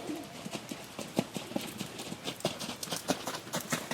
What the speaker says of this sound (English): Stop your horse there in back of her, Amber.